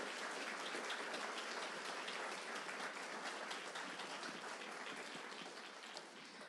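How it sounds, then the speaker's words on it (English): A library crowd applauds author Angie Thomas at the close of a book event, a thick, continuous wash of clapping that holds steady and tapers slightly near the end. "Big round of applause for Angie."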